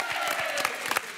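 A studio audience on a French TV dating show applauds, a short burst of dense clapping from a crowd, steady and fairly close throughout.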